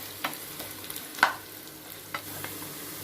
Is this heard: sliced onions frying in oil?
yes